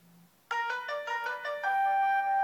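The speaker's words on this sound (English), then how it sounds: "See, it's ringing right away." A Tango app video call ringing on an iPad, a bright chiming ringtone pattern that starts after a short pause and repeats in quick melodic pulses.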